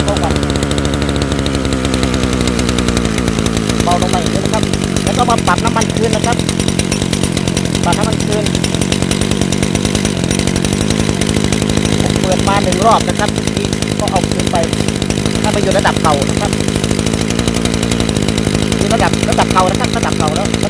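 Small two-stroke lawn mower engine running at a steady close buzz while its throttle is adjusted, with someone talking over the noise.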